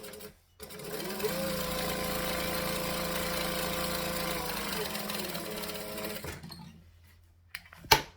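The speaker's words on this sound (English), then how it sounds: "So we're just going to stitch the bottom. Turns out. And back stitch." A sewing machine runs a steady, close whirring stitch along the bottom of a garment for about five seconds, then stops before a brief back-stitch and a sharp clunk near the end.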